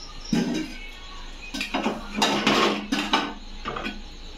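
Rice being spooned in layers over mutton biryani in a pot, heard as a series of close metallic scrapes and clinks of a spoon against the vessel in irregular bursts.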